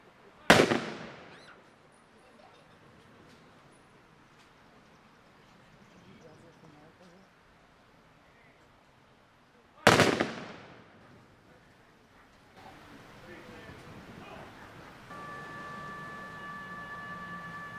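A firing squad fires a rifle volley salute at an outdoor Memorial Day ceremony. Two sharp, loud cracks about nine seconds apart each ring out and fade, with quiet ambience and a faint hum between them.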